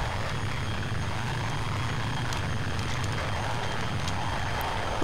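Steady airplane engine drone from a damaged aircraft in the FSX flight simulator game, a continuous low rumble and broadband roar that holds at one loud level, with no talk over it.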